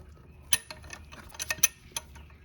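Wrench working a double-nutted stud loose on an oil pump, a run of small, close metallic clicks and ticks in an uneven rhythm with no talking.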